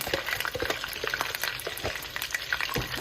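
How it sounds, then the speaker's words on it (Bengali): Crushed onion and garlic hit hot oil in a pan for a dried snakehead fish curry, crackling and sizzling steadily with scattered pops and light stirring scrapes, close and without talk. "এখন আমি এটাতে আস্তে আস্তে করে থেতো করা পেঁয়াজ রসুনটা দিব"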